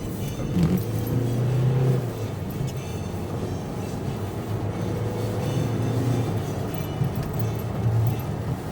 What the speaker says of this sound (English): You got a fucking Tesla behind me.